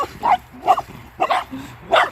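Dogs bark near a lake in Ireland, four sharp barks spaced about half a second apart, close and fairly loud, with nothing else in the gaps.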